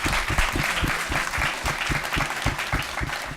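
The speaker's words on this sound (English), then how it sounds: "give our panelists a round of applause." An audience applauding panelists at a conference session, a sustained burst of many hands clapping in a room, steady and fairly loud throughout.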